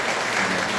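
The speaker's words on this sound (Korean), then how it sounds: "우리 박수로 해주시겠습니다." Church congregation applauding during a Sunday worship service, a steady wash of clapping hands filling the room with no gaps and no voices standing out.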